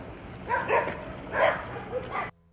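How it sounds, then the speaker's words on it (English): Dogs in Costa Rica make short yipping barks in a few bursts, close by and moderately loud. The calls end abruptly with silence. "Dogs acting naturally."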